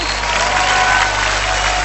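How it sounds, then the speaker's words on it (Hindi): Steady applause from a crowd at a dance show fills the whole moment, a dense wash of clapping with no pauses. "जोरदार तालियां सुमित और हार्दिक के लिए।"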